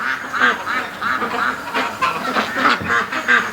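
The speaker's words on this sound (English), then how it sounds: "Okay, the ducks are coming back for a snack." Ducks quack repeatedly in a yard as they return for feed, a steady run of close, fairly loud calls overlapping one another with no talking.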